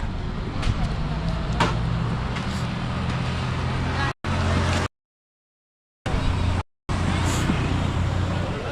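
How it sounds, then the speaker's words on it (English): A lorry on a busy Nairobi city-centre road rumbles past amid steady traffic noise, a loud, continuous low drone with brief hiss and clatter, cut by short dropouts. "That's a lorry."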